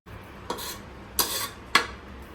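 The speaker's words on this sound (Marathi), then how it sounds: "मिक्स केलेल्या ज्या भाज्या आहेत त्या मी ऍड करते आता" Mixed vegetables for a veg biryani go into a pot with three distinct clattering knocks of utensil on cookware, close and clear over a quiet kitchen background.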